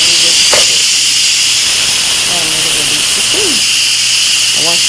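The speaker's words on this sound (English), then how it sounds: "So now what you want to do is you want to release the steam." An Instant Pot pressure cooker vents steam through its release valve with a loud, steady hiss that stays continuous and close for the whole stretch, while faint voices murmur underneath.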